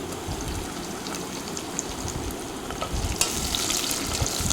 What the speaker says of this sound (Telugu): ఆనియన్ని గోల్డెన్ బ్రౌన్ కలర్ వచ్చే వరకు వేయించుకోవాలి